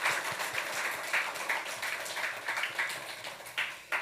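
Church congregation applauding the choir at a Sunday youth service, a soft, fairly distant patter of clapping in uneven bursts lasting several seconds.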